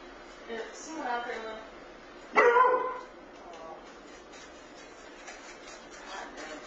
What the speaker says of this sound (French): ses chiens se mettent à s'agiter sans raison